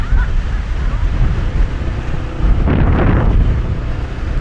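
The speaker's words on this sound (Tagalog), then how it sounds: "Lakas ang hangin na, brado." Strong wind rushing past while riding a motorbike near Taal, Batangas, heard as heavy buffeting roar against the microphone with gusty surges and a stronger blast partway through.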